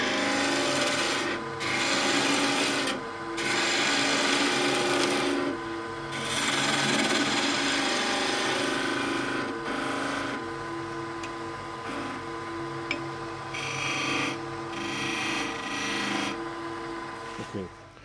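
Rough, repeated rasping strokes of a hand tool roughing down a wooden tenon for a stool, the scraping bursts near and loud with brief pauses between strokes.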